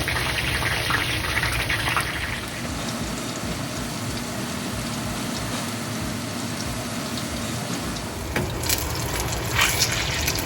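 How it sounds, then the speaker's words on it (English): Dry cod frying in a pan over medium-high heat for a fish curry, a dense continuous sizzle and crackle that stays steady and fairly loud throughout. "Let it fry on a medium to little high heat till golden brown."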